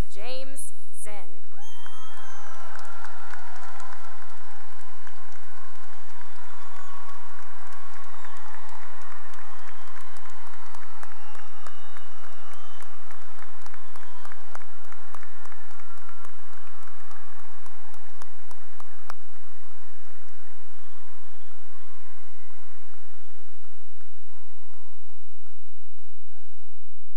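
A large crowd applauds a graduating class at a 2021 high school graduation ceremony, with dense, sustained clapping mixed with scattered whoops and cheers, filling a reverberant space for nearly half a minute.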